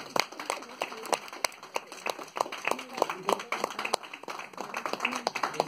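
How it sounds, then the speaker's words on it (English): Workshop audience applauding a participant walking up on stage, a lively patter of many hands clapping indoors at moderate volume, sustained and uneven for several seconds. "Everyone please clap for Garima."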